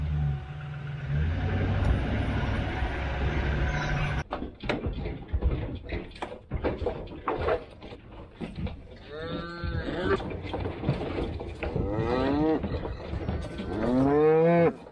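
Cattle, bulls and heifers on a farm, moo loudly and repeatedly, with long drawn calls close by after some clattering and knocking sounds and a steady engine hum.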